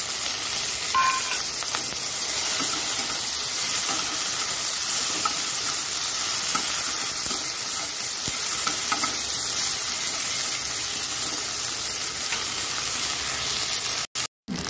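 Sliced bitter gourd and green chillies fry and sizzle in hot oil in a pan, a steady close hiss with occasional stirring scrapes that runs the whole time with no talking, then cuts off briefly near the end.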